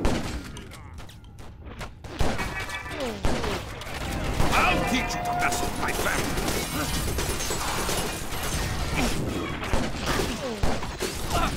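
Gunfire in the action game Stranglehold crackles in rapid bursts, with sharp shots and mechanical clatter packed over a busy, loud mix of effects and music across about eleven seconds.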